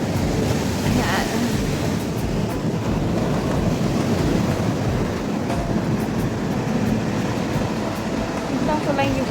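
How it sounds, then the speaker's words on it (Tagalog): Large ocean waves break on a beach at Punta Fuego during a typhoon, producing a dense continuous roar of surf mixed with strong wind buffeting the microphone, loud and close. "Ayan yung alon dito. Super laki ano. Ng alon."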